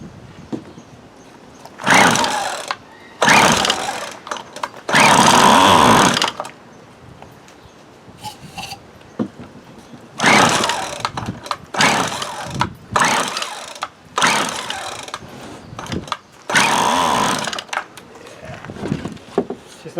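A 1996 Craftsman string trimmer with a faulty carburetor starving it of fuel runs in uneven bursts, revving up loudly for a second or two and dropping back between surges, close to the microphone.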